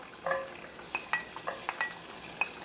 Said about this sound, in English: We are going to go ahead and add in the minced garlic and cook that for about a minute or so.